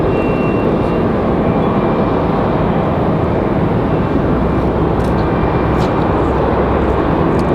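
A Copa Airlines Boeing 737 Max 9 airliner in Panama livery roars past at an airport in a continuous, loud, broadband rumble heavy in the lows, holding steady throughout without talk.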